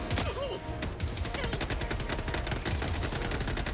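Dense automatic gunfire in the video game Helldivers 2 rattles nonstop in rapid, loud bursts of overlapping shots that fill the whole stretch without a pause.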